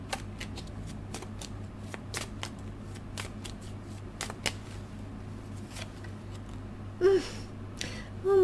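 Tarot cards being shuffled, with repeated crisp riffling snaps close to the microphone in an irregular rhythm, plus a couple of louder card slaps near the end.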